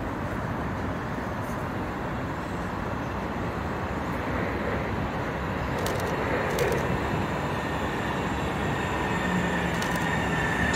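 A Link light rail train rumbles steadily into the SeaTac Airport station, a continuous broad roar of wheels and motor with faint high squeals, building slightly toward the end.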